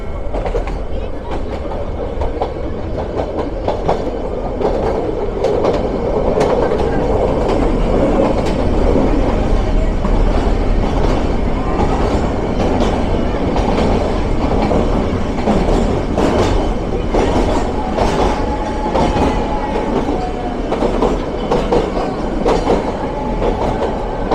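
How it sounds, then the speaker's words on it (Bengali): A toy train rumbles steadily along the rails with a continuous roar and faint clatter, the sound thickening and echoing as it enters a tunnel on the Ooty to Coonoor line. "টানেলে ঢুকছে ট্রেন।"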